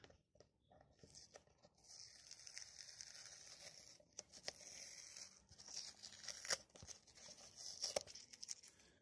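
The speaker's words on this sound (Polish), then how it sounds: "Można zrywać folię zabezpieczającą, maskującą" Protective masking film is peeled and torn off an Opel Astra G headlight area in crinkly, crackling bursts, with several sharper rips and snaps, close up.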